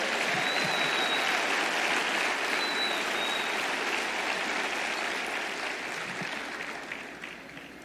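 A church congregation applauds steadily for nearly eight seconds, a dense wash of clapping that tapers slightly toward the end, with no speech over it.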